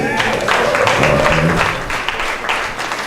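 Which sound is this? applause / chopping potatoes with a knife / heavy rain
applause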